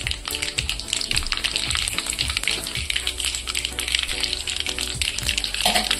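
Cumin seeds sizzle and crackle steadily in two ladlefuls of hot oil in a kadhai on a gas stove, a dense, close frying hiss with scattered pops throughout.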